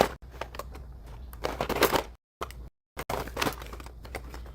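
Someone rummages through a junk box, making close crinkly rustling, clattering and shuffling noises in uneven bursts, with a couple of brief silent gaps.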